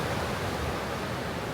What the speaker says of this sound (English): we're on the Atlantic coast, and you can see the waves coming in.